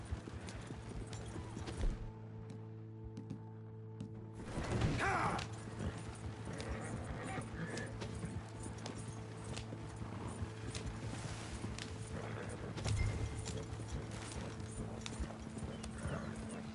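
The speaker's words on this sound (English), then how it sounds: "Slow down. You'll burn out the horses." Rhythmic clip-clop of horses galloping as they pull a stagecoach in the video game Red Dead Redemption 2, steady hoofbeats over a rolling background with brief louder bursts of movement.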